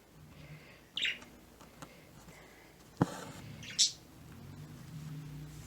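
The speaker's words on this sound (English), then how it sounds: "It's a lot of fun having the birds." A pair of pet parakeets indoors giving two short, bright chirps a few seconds apart, fairly close, over a quiet room background.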